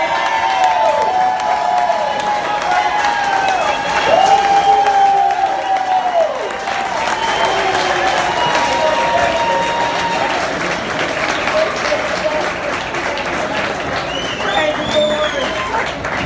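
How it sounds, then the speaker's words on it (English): A crowd bursts into loud applause and cheering, with whoops and shouts rising over the sustained clapping. "Come on, you guys give it up for Frank"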